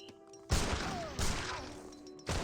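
Musket volleys from musketeers in an Age of Empires 3 battle, a series of loud broadband bursts at intervals with crackling battle noise between them and no talk.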